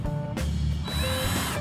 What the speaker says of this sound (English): you'll drill